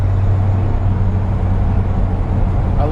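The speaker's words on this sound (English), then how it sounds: "I just love the sound of a 302." A Ford 302 V8 engine idles close by in a 1965 Ford F100, a steady low drone with a deep, even rumble and no pauses.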